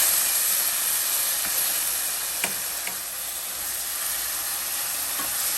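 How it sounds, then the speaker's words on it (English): Chicken in coconut sauce cooks in a skillet with a faint, even sizzling hiss, broken by a few light ticks and pops. "So I threw the chicken into the skillet."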